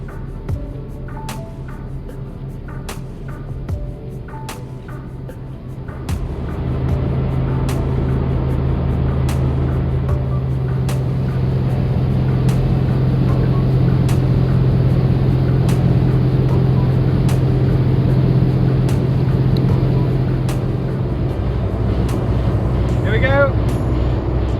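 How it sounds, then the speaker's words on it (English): The Twin City Liner's engines start up after a quieter stretch and settle into a loud, steady low hum as the boat leaves Bratislava on the Danube, with a voice talking over it. "The engines were fired up, the crew casted off our lines, and soon we'd be sailing on one of Europe's longest rivers."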